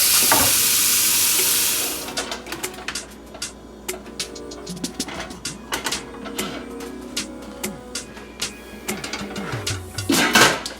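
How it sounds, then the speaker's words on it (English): Water runs into a cooking pot, half-filling it for boiling, for about two seconds, a steady broadband rush, followed by clinks, taps and handling sounds. "I'm just filling this pot up with half of water"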